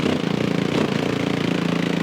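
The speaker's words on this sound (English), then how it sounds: "Oh, it's idling. You hear the idles. It's throttle's hanging up. So it's idling too high." A race car engine at a drag racing event idles high and loud with a steady revving drone from a hanging throttle, unbroken by other sounds.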